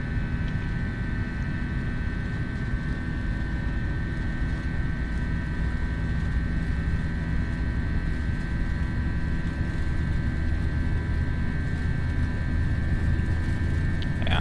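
Airbus A321 jet engines spooling at takeoff power in a flight simulator, a steady loud broadband roar with a low rumble and a constant high whine held throughout.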